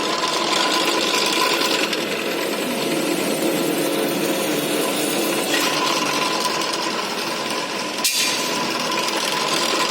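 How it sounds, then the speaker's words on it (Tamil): Steady, loud mechanical whine of a power drill boring a hole in a steel flat bar, running continuously with a brief sharp knock near the end. "7 ட்ரில் போடுறாருங்க."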